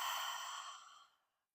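A single long exhalation during a Pilates exercise, a soft breathy sigh close to the listener that fades out over about a second, with no talking.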